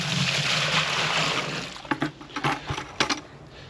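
Clean water rushes into a bucket for mixing self-levelling floor compound: a steady close pour that tapers off into a few sloshes and splashes.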